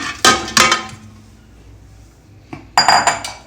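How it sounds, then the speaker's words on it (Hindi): Pieces of mutton drop into a metal pressure cooker, making two quick bursts of clattering metallic clanks near the start and another louder cluster near the end, with a quiet pause between. "यहाँ अब हम ये प्यारे से प्रेशर कुकर में सबसे पहले गोश्त ऐड करते हैं"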